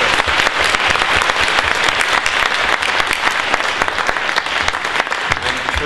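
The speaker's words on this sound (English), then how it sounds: "I hope everyone will give them a big hand of applause for being here" Audience at a panel discussion during a museum innovation conference applauds the panel, a loud, sustained wash of many hands clapping that continues without a break for several seconds.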